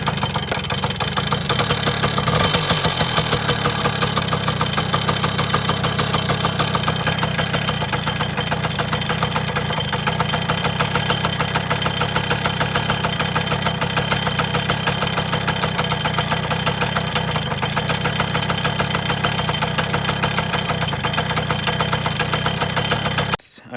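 A Yamaha PW80 dirt bike engine idles steadily while warming up, a loud, continuous close-range putter with a constant rhythm throughout and no talking.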